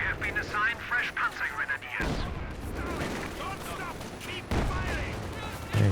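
STG assault rifle fire in Company of Heroes 2 crackles in repeated bursts amid distant battle booms, running beneath steady commentator speech.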